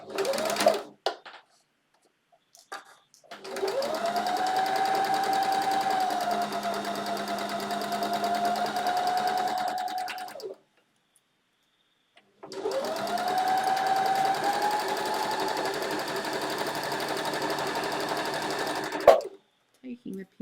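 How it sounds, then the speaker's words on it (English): Sewing machine running a zigzag stitch along a swimsuit side seam, two long steady whirring runs of about seven seconds each, separated by a short pause, close and loud. "now what I'm going to do is I'm going to sew my side seam"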